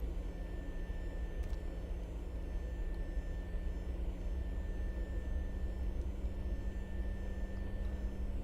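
Boeing 737 taxiing in the X-Plane flight simulator, a steady droning jet engine idle with a constant low hum and a thin high whine that holds evenly throughout.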